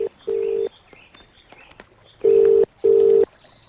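A telephone rings in three steady electronic tone bursts, one short and then two longer ones close together, clear against a quiet background.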